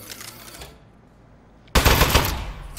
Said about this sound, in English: Presenting the Aperture Science Turret. Go on, take it for a spin.